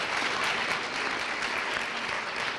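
A round of applause at a JROTC Veterans Day program for veteran Victoria Hawkins, Legion of Valor, steady and full throughout, many hands clapping together with no voices over it.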